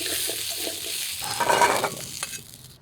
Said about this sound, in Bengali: এই তেলে আলু ভেজে রাখবো আলাদা করে